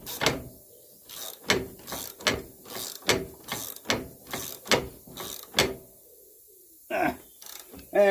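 A ratchet and socket tighten a bolt on a John Deere 115 ride-on mower, giving a close, rhythmic series of clicking ratchet strokes about every half second, then a pause and a couple of final clicks.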